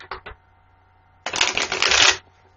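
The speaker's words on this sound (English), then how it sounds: "So I shuffle 3 times," A deck of tarot cards handled close up: two quick soft flicks, a pause, then a sustained, crisp riffle shuffle lasting about a second, with no voices.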